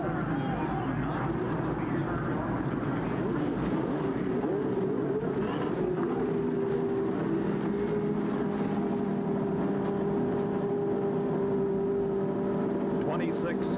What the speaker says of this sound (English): So listen to them fire. The engines for the first time now.